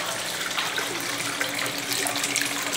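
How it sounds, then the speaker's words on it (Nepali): Water from a decorative feature falls from above inside a lavishly decorated Saudi restaurant, a steady close splashing rush that stays constant with no talk. "पानी माथिबाट पानी आउँदछ"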